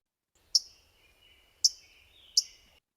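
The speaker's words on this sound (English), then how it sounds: "it's a really strong metallic chip" Three sharp, metallic chip notes from a warbler along a creek, spaced about a second apart, each a brief bright ping with a short trailing ring, fairly close and alone.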